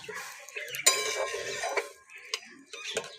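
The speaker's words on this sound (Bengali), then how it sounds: "ভালো করে একবার নেড়ে দেব" Moong dal being stirred in a pan, a few sharp clinks and scrapes of a metal spoon against the pan separated by short quiet gaps.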